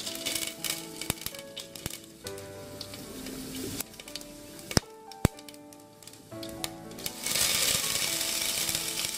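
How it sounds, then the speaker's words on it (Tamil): Mustard seeds splutter in hot oil for a Nagercoil-style fish curry, with sharp irregular pops and crackles over a steady sizzle that swells louder toward the end, close by. "கடுகு இப்போ நல்லா பொட்டிட்டு இருக்குது."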